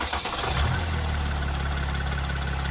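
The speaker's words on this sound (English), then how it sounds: "I'm going to turn on the van." A Mercedes Sprinter van's engine cranks briefly and starts, then settles into a steady, low diesel idle that runs close and continuous to the end of the clip, with no speech over it.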